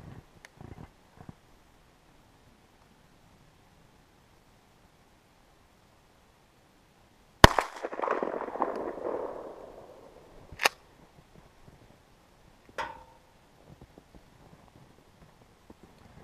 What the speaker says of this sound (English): we're going to be shooting at our target back here with the 20 gauge Remington Express 870 with our Federal 3-inch Magnum